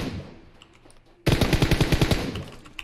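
Automatic gunfire in the PUBG Mobile match on the Miramar map: a quiet stretch, then a loud, rapid burst of about a dozen closely spaced shots that carries on with echoing reports until the end.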